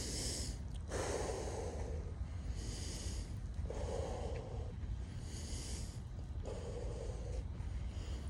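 Heavy, rhythmic breathing close to the mic after a late-night bodyweight workout: deep breaths and snorting exhales repeat roughly every second and a half over a low steady hum.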